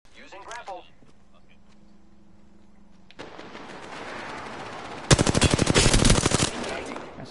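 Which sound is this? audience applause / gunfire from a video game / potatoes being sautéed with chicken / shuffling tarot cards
gunfire from a video game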